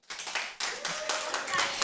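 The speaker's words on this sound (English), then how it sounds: "we owe a very, very tremendous, loud round of applause" Audience at a live women's auction event breaking into applause, a burst of dense, lively clapping that rises quickly and holds steady at close range with a few cheers mixed in.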